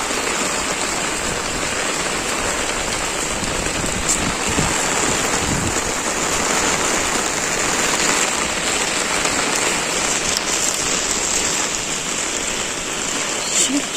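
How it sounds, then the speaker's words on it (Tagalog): Heavy rain from Typhoon Amang in Bicol pours down in a steady, dense hiss, drumming on surfaces without letup for the whole stretch, close and loud. "Kanina pa to umaga, umuulan na"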